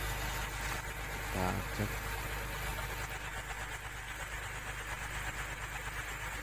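A Komatsu PC200-6 excavator engine with black smoke and low power, freshly restarted, runs at a steady rumbling idle throughout, with a brief voice heard over it near the start.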